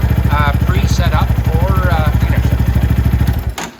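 A Venom X22R Max 250cc motorcycle engine idles with a steady, rapid, even thumping pulse, close and loud, under a voice, before cutting off near the end.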